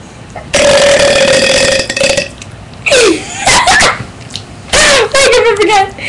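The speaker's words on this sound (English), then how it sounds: "I'm recording me burping." Loud, close burps come one after another, each a long, drawn-out, tonal belch with brief pauses between them, and talk mixes in among them.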